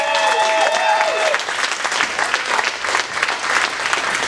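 An audience at a Cedar Point announcement for the Valravn dive roller coaster applauds and cheers loudly, with dense sustained clapping throughout and a few whoops early on.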